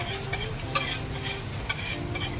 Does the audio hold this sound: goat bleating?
no